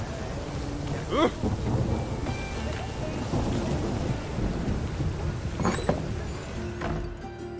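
Steady rain pours with rolling rumbles of thunder in a stormy scene from The Witcher 3, the downpour continuous and close while deep thunder swells and fades beneath it.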